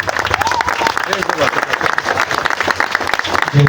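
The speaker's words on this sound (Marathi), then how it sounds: "जोराने टाळ्या वाजवायच्या." Villagers clap loudly together at a gathering for a newly renovated cross, a dense patter of applause running under a voice that keeps speaking over it.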